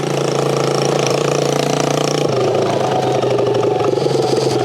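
Lifan 140cc motorcycle ridden along an easy trail, its engine running steadily and loud close by throughout, with a continuous mid-pitched drone and a slight shift in tone partway as the rider changes pace.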